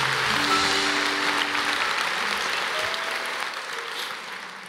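A church congregation applauds, a steady, full wash of clapping that holds throughout and slowly fades, with a few faint tones lingering early on.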